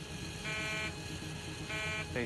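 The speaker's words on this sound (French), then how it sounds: "C'est ce qu'on appelle l'alarme configuration de décollage." Aircraft cockpit takeoff configuration warning sounds as two steady, buzzing electronic alarm tones, each lasting under half a second, over a constant cockpit hum.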